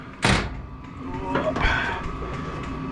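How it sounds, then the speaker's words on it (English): A shop door, one that still lacks a handle, is shut with one sharp, loud bang near the start, followed by a softer rattling slide and faint background noise. "I'm gonna shut this door."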